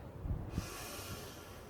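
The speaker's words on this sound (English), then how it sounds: "Breathing in," Deep breathing during a breathing exercise: a sharp, explosive in-breath followed by a steady, continuous exhale, close and fairly quiet, with no talking.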